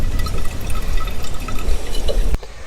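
Fuel pouring steadily out of a disconnected fuel hose, a continuous close liquid gush with dribbling texture that stops abruptly near the end.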